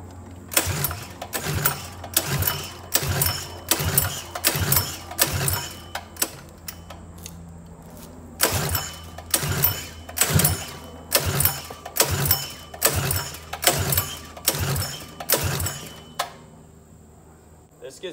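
A Predator 212cc go-kart engine on a Stage 3 Falcon Racing kart is pull-started again and again, each sharp cranking stroke landing in an even series, then a pause, then another long run of pulls, close and without catching.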